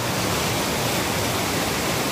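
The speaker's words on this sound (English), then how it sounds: "we got a little waterfall" A small waterfall beside a hiking trail on the Appalachian Trail gives off a steady, full rushing roar of falling water, close and constant throughout with no voices.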